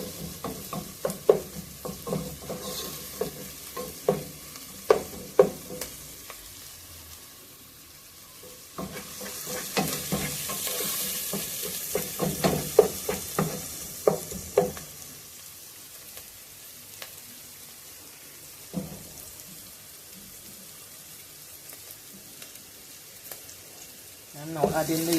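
Food, yam first, goes into a sizzling pot of Ital stew. A crackling fry rises and falls under scattered stirring clatter and knocks, with a brief louder burst of sizzle midway.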